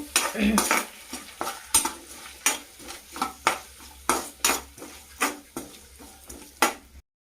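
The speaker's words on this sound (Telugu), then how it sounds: "ఒక 2 పచ్చిమిర్చి అండ్ కరివేపాకు అన్నీ వేసేస్తున్నాను. ఒకసారి కలుపుకొని బాగా ఫ్రై అయ్యేంత వరకు" Green chillies and curry leaves, with onion, stirred in a frying pan: a steady sizzle under repeated sharp scrapes and clinks of a spoon against the pan, about a dozen evenly spaced strokes, close and fairly loud.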